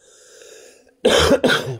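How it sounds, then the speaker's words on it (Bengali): A person with a cold coughs in two sharp, loud bursts up close, following a faint steady hum. "প্রচণ্ড কাশি হচ্ছে, তো কিছু মনে করো না তোমরা"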